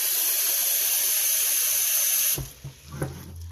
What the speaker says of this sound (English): I'm going to add another 2 cups of water, just because that is the normal process to follow.